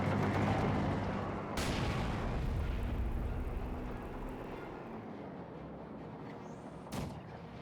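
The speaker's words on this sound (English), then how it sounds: "Mortars firing a barrage here." Mortar barrage in a Company of Heroes 2 battle: loud, continuous rumbling blasts, with two sharp bursts standing out, one early and one near the end.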